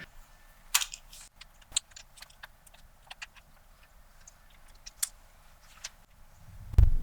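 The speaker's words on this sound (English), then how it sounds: "now it's time to remove the tiny screws with a tiny screwdriver" A tiny screwdriver works tiny screws loose from a leather portfolio cover, giving sparse faint ticks and small metallic clicks at irregular intervals in a quiet room, with a soft thump at the end.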